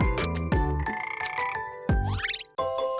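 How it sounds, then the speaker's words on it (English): Small desert rain frog giving a run of high, squeaky calls, close and clear, with short pauses between bursts and a rising chirp near the end. "starts making this really cute sound. The world's cutest frog, the desert rain frog."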